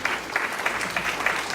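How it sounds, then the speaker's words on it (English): A short burst of audience applause for veterans at a Republican club gathering in a retirement community, with a steady, even patter of many hands clapping. "We want to applaud you."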